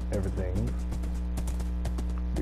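In Minecraft, a horse's hooves clip-clop at a steady trotting rhythm, close and moderately loud, while a voice talks briefly over the opening steps.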